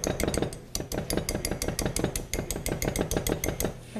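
A utensil scrapes thick hush puppy batter out of a bowl in fast, rhythmic strokes, a steady run of close scraping and tapping clicks that continues throughout without pause or speech.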